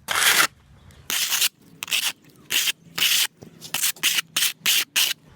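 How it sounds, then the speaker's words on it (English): Ready-mix stucco patch dabbed on with a skip trowel, a run of loud close rasping scrapes in short bursts, the first ones longer, then quicker evenly spaced strokes with brief quiet gaps. "It's also cool to use a bit of a skip trowel technique. You can kind of just dab away at it."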